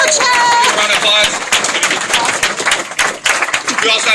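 An audience at a Vemma Super Saturday training event breaks into a round of applause, dense and steady, with a voice speaking over the opening moments before the clapping fills the room.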